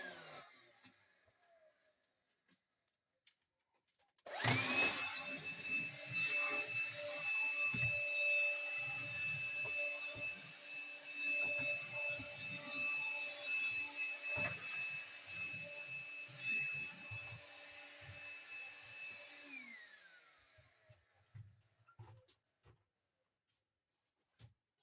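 A vacuum cleaner hoovers a small area of a collectors' cottage room. It starts abruptly, holds a steady high whine with bumps and knocks from the nozzle for about fifteen seconds, then winds down.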